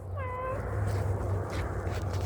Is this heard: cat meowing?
yes